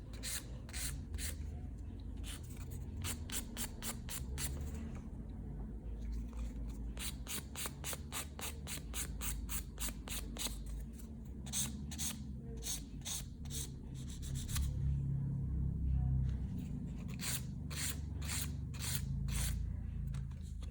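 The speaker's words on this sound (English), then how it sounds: "And what you'll find when you're filing on these dummy hands," A hand gel file rasps against hard gel nail extensions on a dummy practice hand, a close, continuous series of quick scratchy back-and-forth strokes over a low background rumble.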